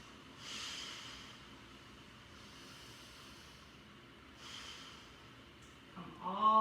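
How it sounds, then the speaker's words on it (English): During a yoga balance pose, slow deep breaths come through as soft airy swells spaced a few seconds apart, faint and close, with a louder intake near the end. "2 more breaths"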